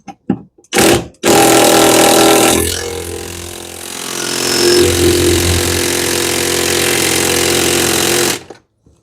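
A Johnson 150HP outboard motor's power trim unit whines loudly and continuously for several seconds as it raises the motor, after a couple of short bursts at the start.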